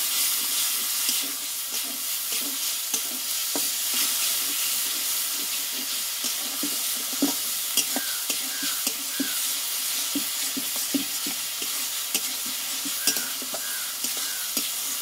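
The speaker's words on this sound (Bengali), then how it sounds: "মশলাটা আবারও আমি ভালোভাবে একটু কষিয়ে নেব" Ground spice masala with salt and a splash of water is sautéed in a pan for a pumpkin-vine and egg curry. Constant sizzling and steam hiss sit under repeated scraping stirs of a spoon, with no talking.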